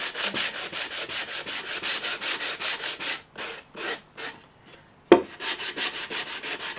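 Medium-grit sandpaper rubbed along the grain of a wooden piece in a decoupage workshop, a steady run of close, loud back-and-forth strokes, a brief pause with a knock, then more rhythmic sanding.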